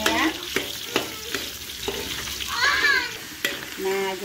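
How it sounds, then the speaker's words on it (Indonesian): Jengkol spice paste fries and sizzles in a pan as it is stirred, with a hissing bed broken by repeated scraping strokes of the utensil at an irregular pace, close and clear. "Kita goreng bumbu jengkolnya ya."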